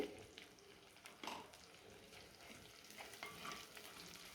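Ginger sautéing in a pan for a green-masala fish curry, a faint steady sizzle with a few louder stirring scrapes, no talk over it.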